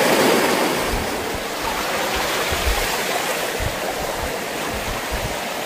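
A river flows at a riverside lined with trees, giving a steady, loud, broadband rush of moving water with low rumbling underneath and no pauses.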